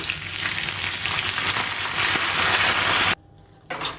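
Loud, steady sizzling of curry leaves dropped into hot oil, crackling continuously before abruptly cutting down near the end.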